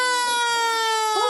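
Fire truck siren, a loud, sustained tonal wail that bends in pitch near the end of a short burst, with no other sounds around it.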